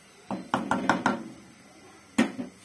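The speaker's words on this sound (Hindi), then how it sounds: "ढक्कन बंद कर देंगे" A metal lid is set onto a cooking pot of chicken kofta curry with water and stock cube, giving a quick series of four or five clattering knocks followed by a second clunk, close and fairly loud with no talk.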